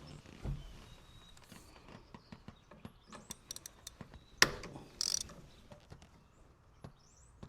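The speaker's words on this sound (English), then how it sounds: "So I'm going to go ahead and unbolt this bolt, see if I can get this out first." A ratchet works a bolt on a Nissan Frontier transmission, with quiet, irregular clicks and metallic ticks up close and one louder clank partway through.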